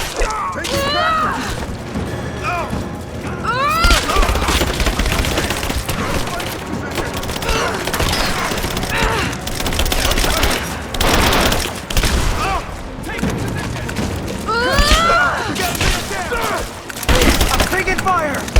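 Video game gunfire in Rise of the Tomb Raider comes as dense bursts of shots and impacts that keep going, mixed with shouted voices and battle effects.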